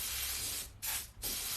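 An airbrush spraying black paint onto a black t-shirt, a bright steady hiss that cuts out twice briefly, leaving a sputtering sound in the short gaps before it resumes, close and alone.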